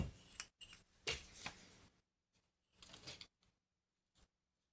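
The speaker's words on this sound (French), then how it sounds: "vous faites au ciseau comme moi" Scissors cut scrapbooking paper for a handmade gift box in several crisp, close snipping strokes separated by brief gaps, the sound standing alone without talk.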